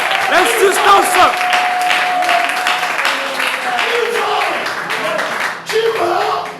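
A church congregation applauds during a sermon, a burst of clapping mixed with cheering voices and a sustained vocal tone, fading slightly before picking up again near the end.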